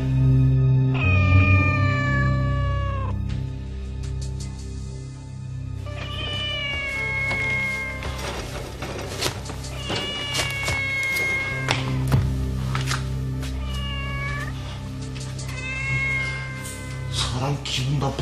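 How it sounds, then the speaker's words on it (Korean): A cat meows and caterwauls in long, wavering, drawn-out wails repeated across the stretch, loud and close, with occasional thuds and taps in between. "이게 고양이 소리 맞아?"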